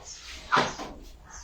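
A door is opened or closed indoors, making a single short knock or thud near the middle, with a faint room hush before and after.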